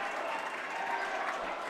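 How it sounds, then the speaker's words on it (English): A Central High basketball crowd cheers and claps in a high school gym, a steady, loud roar of voices and applause with a radio announcer talking over it. "As you'll hear the Central High crowd,"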